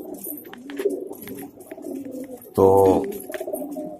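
Pigeons cooing close by in a steady low murmur, with one louder, fuller coo near the end and a brief spoken word in Hindi.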